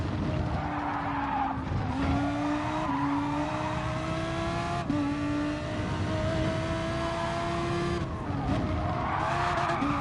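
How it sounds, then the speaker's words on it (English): Engine drone and a long tire squeal run nearly without pause as a car in a racing video game skids, its rear end sliding loose under heavy braking mid-corner. "hit the brakes a little bit too heavy mid corner there, got the rear end loose"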